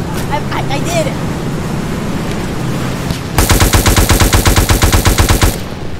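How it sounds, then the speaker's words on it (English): A minigun fires in a WW2 video game: after a stretch of quieter ambient noise with talking, a loud, rapid, unbroken stream of shots rattles for about two seconds before cutting off. "I have a minigun."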